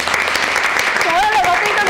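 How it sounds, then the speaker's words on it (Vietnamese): Warm audience applause at a cải lương academy show, dense clapping filling the moment close and loud, with a voice rising over it partway through. "Trời ơi, lần đầu tiên tôi được vỗ tay."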